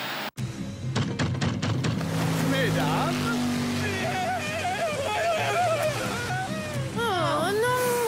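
A racing boat's motor drones loud and continuous beneath excited talk, with whining pitch swells as it speeds over the water.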